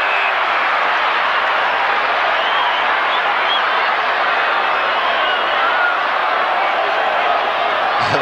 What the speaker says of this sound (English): The crowd calling